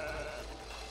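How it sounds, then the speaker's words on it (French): A sheep bleats in the video game It Takes Two, a short wavering cry over a steady background of game ambience, fairly soft and with no talk over it. "Le mouton."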